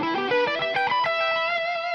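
Distorted electric guitar playing a fast arpeggiated passage, bright sustained notes ringing one after another, loud and up close with no talking.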